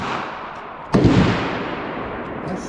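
A single sharp pistol shot with 40 grain ammunition cracks loudly about a second in, followed by a decaying outdoor echo and quiet ambience.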